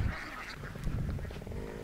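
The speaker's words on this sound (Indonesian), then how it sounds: "Bebek-bebek ini yang jumlahnya ratusan berpindah tempat." Hundreds of laying ducks being herded to a new rice field quack and honk together as a dense, continuous chorus, close and steady with overlapping calls.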